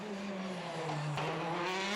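A Citroën DS3 R5 rally car races on a Belgian rally stage near Spa, its engine note holding steady and then climbing in pitch with a sharp gear change partway through, loud and close.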